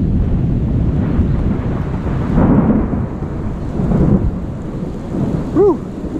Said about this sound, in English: So it just started raining and the thunder's going crazy